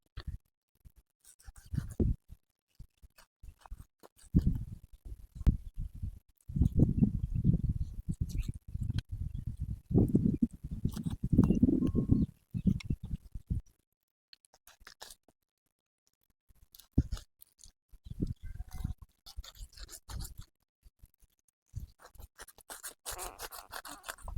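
Pork being chopped for a clay-pot fry, with irregular bursts of close knife cuts and scraping in clusters separated by short quiet gaps.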